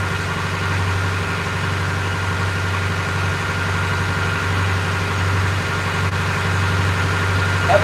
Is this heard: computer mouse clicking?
no